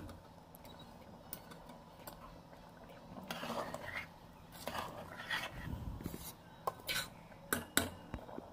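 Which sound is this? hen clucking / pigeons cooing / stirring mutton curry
stirring mutton curry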